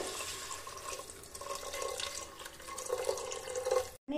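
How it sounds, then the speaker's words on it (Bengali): Water pours into a pressure cooker holding dal, a steady close splashing fill with a few drips, lasting about four seconds before it cuts off abruptly. "এবার আমি এর মধ্যে দিয়ে দেব পরিমাণ মতো জল"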